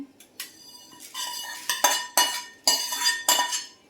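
Dry-roasted ingredients scraped and tipped from a metal pan onto a plate, with a series of sharp clinks and scraping metallic knocks in an irregular rhythm, close and clear.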